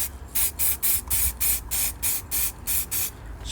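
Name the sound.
spray paint can spraying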